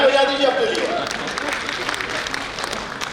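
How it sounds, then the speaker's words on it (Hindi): Audience applause at a Lions Club event, a steady wash of many hands clapping that starts loud and fades gradually over a few seconds, with a faint voice at the very start. "आगे आगे ताली बजा दीजिए अपने लिए"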